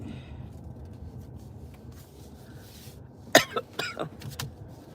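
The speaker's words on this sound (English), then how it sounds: "Why do I got to cough again?" A sharp, close cough bursts out after a quiet stretch, followed by a couple of smaller coughs in quick succession.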